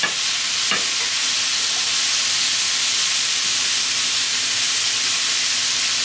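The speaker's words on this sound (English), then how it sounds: "Then add bean sprouts and saute lightly" Bean sprouts sautéing over oiled vegetables in a pan give off an even, hissing sizzle that holds steady and fairly loud throughout, with one brief knock near the start and no speech.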